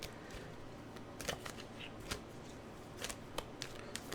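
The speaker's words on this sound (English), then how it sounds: "But I still feel like I need to shuffle these." Tarot cards are shuffled by hand in a quiet room, a series of sharp riffling bursts and soft flicks close by, with no talk.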